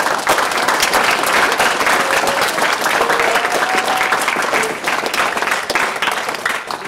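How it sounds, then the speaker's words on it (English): A middle school audience bursts into sustained applause after a visiting boy scout's talk on bullying, dense steady clapping filling the room with faint voices and a few whoops mixed in. "Let's give him another round of applause."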